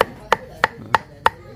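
A knife mincing vegetables on a board while preparing a Vietnamese feast: five sharp, evenly spaced chops about a third of a second apart, close and clear, with no talking.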